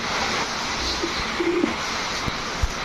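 Pigeons at a pigeon market give a few soft, low coos over a steady background hubbub, moderately close but never loud.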